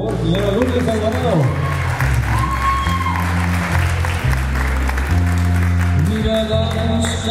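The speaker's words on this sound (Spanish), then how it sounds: "aplauso a la tía, por favor, señora Lourdes Alvarado." Guests at a quinceañera applaud for the aunt, a loud sustained burst of clapping from the crowd with music and voices underneath throughout.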